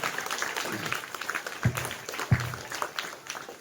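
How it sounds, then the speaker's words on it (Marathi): Students clap together to welcome guests at a school supplies distribution event, a steady, moderately loud patter of many hands with a few sharper claps and some talking mixed in. "जोरदार टाळ्या झाल्या पाहिजे मित्रांनो"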